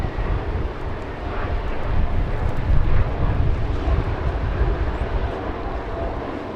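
A commercial airliner arriving at Los Angeles International Airport, its engines giving a steady, broad roar that swells slightly midway and holds at a moderate distance, with wind buffeting the microphone throughout.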